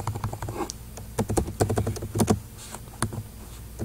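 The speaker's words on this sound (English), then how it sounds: "type in a username" Keys clatter on a computer keyboard as a username is typed, a quick irregular run of close, crisp taps with short pauses between bursts.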